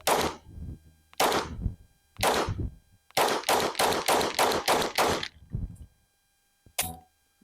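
A custom gold Glock 26 pistol fires sharp, loud close-range shots: three spaced single rounds, then a rapid run of about six, and one final shot after a pause.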